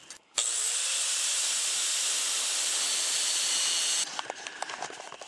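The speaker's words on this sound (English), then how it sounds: "so I'm gonna have to grind on that" Angle grinder grinding a tack weld on a 1999 Jeep Cherokee's Walker cat-back exhaust, a loud steady high-pitched whine for about four seconds, then the tool cutting off and winding down with scattered clatter.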